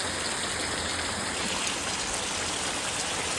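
Gentle, steady rain falls over a village in Botad, giving a soft, even hiss of drops on the ground that continues unbroken, with no voices.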